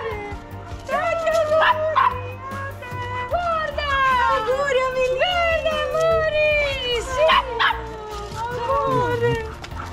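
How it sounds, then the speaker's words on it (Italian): A dog yips, whines and barks excitedly in a rapid, high-pitched run of calls close by at a first birthday gathering, with people talking throughout. "Continua ad abbaiare."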